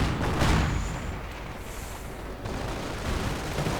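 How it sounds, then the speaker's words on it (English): Mortar rounds firing and exploding in a World War II strategy video game battle with tank destroyers, a steady rumble of distant booms and crackling gunfire, with a louder burst early on and a heavier thump near the end. "Mortar rounds going in from someone"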